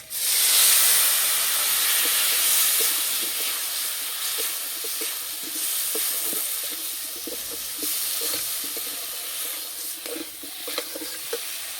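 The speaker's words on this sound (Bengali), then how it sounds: "সামান্য জল দিয়ে মশলা কষিয়ে নেব।" Ground chili, turmeric and cumin cooking down with a splash of water in a hot pan, giving a continuous steamy hiss and sizzle with scattered light stirring taps throughout, no talking.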